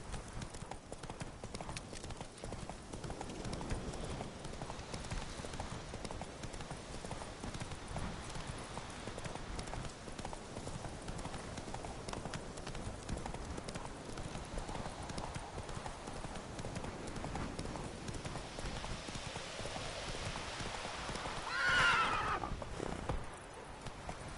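Hooves of the horse Roach pound in a fast, continuous gallop across video game terrain, close and steady for the whole stretch, with a brief whinny-like swell near the end.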